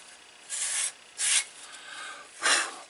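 Edge of a leather card wallet sanded with 220 grit 3M wet and dry paper, three separate close, hissing rubbing strokes with short pauses between them.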